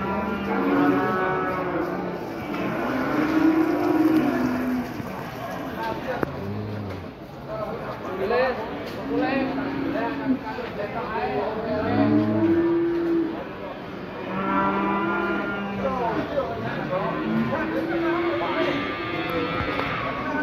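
Cattle, including a jumbo bull from Rembang, moo repeatedly at a cattle market in Pati, long low calls one after another, close by, with people talking underneath throughout.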